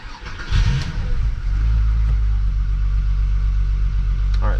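A Volkswagen Jetta wagon engine cranks and catches, then settles into a loud, steady idle that stays close and unbroken for several seconds, with no one talking.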